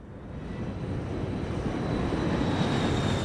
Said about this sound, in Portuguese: À medida que o avião descia